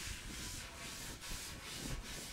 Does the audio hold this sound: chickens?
no